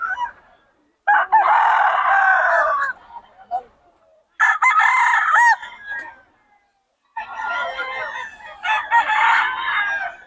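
Roosters crow loudly and close by in three long calls separated by short gaps, with fowl clucking between them.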